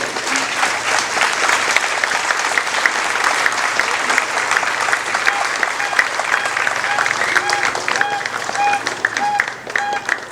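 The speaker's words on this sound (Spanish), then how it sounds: "Fuertes los aplausos." Festival crowd applauding the voladores performers at the Huasteca festival in Huejutla de Reyes, Hidalgo, with sustained dense clapping for about ten seconds, loud and close, and crowd noise mixed in.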